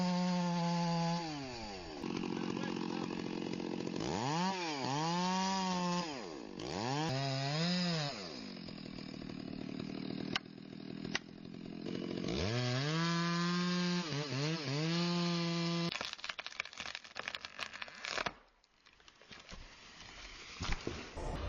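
A big chainsaw cuts into a tree, its engine rising and falling in repeated revving sweeps with a steady cutting whine between them, then rough crackling as the wood gives way near the end.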